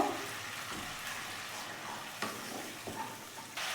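Masala spice paste sautéing in a pan with a splash of water, a soft continuous sizzle and bubbling close by, broken by a few light clicks of a spoon stirring.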